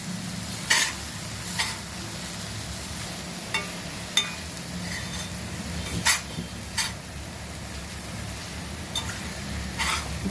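Eggplant and onion fry in a pan, a steady close sizzle broken by repeated scraping knocks of a spatula stirring every second or two.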